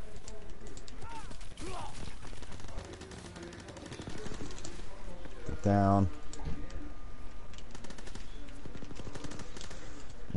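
Gunfire in Call of Duty WW2 plays as bursts of rapid shots mixed with game noise, with one louder, sharper burst near the middle, while a player talks over it.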